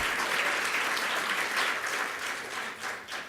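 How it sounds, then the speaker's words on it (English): Sustained audience applause at a research symposium, honoring Dr. Lisette Garcia; a dense, steady wash of many hands clapping that stays loud throughout and tapers slightly near the end. "Give a big round of applause to La Doctora, Dr. Lisette Garcia."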